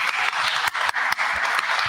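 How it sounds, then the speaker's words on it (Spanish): An audience at a university literature talk breaks into a dense burst of applause, with many hands clapping steadily and fairly loudly throughout. "yo le pido un aplauso porque Martín se rifó"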